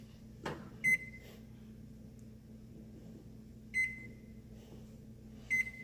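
An oven control panel beeps three separate times, short bright electronic tones spaced a few seconds apart, as the preheat is set to 325 degrees in a quiet kitchen.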